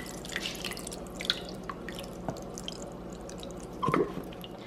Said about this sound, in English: I'm just gonna take it and just pour it all over the chicken breast.